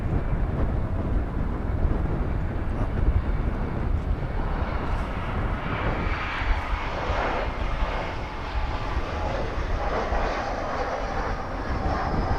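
An American Eagle airliner landing at DFW airport, a loud sustained engine roar and rumble that swells and shifts steadily throughout, heard from fairly close with no voices.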